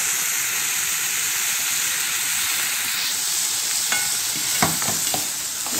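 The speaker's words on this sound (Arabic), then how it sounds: "قلب بس فيها شوية، نشوح بس الخليط ده" Garlic, pepper, onion and tomato sauté for liver in a hot pan, a constant loud sizzle and hiss, with a few scraping stirs near the end.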